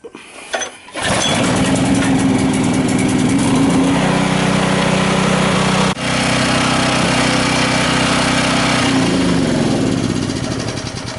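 A portable generator's small engine pulls, catches and roars into a loud, steady running drone up close, with a brief dip midway and no talking.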